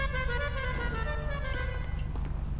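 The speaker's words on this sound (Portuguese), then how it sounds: "Porra de buzina é essa?" A vehicle horn in the video game GTA 5 blares in one long, unbroken tone over a low engine rumble, loud and close.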